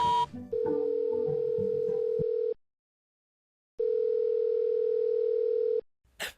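Dial tone of a public modular telephone: a short burst of dialing beeps, then a loud, steady hum-like tone, a few seconds of silence and the same tone again, ending with a brief click.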